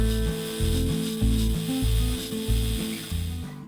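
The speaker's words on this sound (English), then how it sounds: "Then onto the belt sander to add some of the shape." A belt sander grinds and shapes a metal lightsaber hilt for a Force Unleashed build, giving a loud, steady abrasive whine that rises and dips in pitch as the piece is pressed on and eased off, with no voices.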